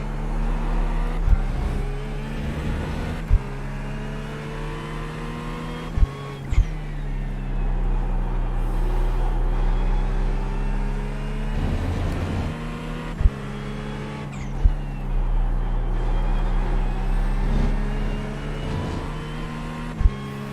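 GT3 race car engines at Monza in the iRacing sim, with a loud, steady engine drone whose pitch rises and dips through gear changes, and sharp shift clicks recurring every few seconds.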